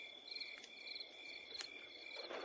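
Crickets chirp loudly and steadily in dark woods, a dense continuous trill with a few sharper nearby chirps standing out, no voices.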